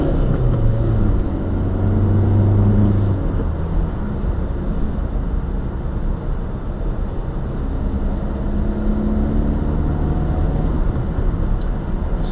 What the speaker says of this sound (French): Petite relance. Puissance maximale est à 4000 tours.